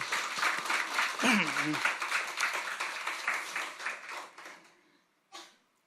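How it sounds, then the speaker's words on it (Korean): A church congregation applauds after the choir's anthem at a Sunday worship service: dense, steady clapping that fills the room for about four seconds, then tapers off. A voice speaks briefly over it, and a short burst of sound follows the silence. "우리 격려 박수하겠습니다."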